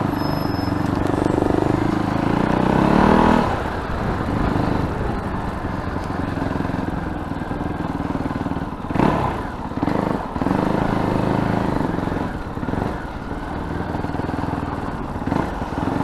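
Fantic Caballero Scrambler 500 motorcycle being ridden, its engine droning steadily and loud throughout with a heavier surge at the start and brief dips as the throttle eases, with wind noise mixed in.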